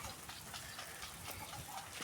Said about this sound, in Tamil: தட்டைக்கு மழைநீர் தெளிப்பான்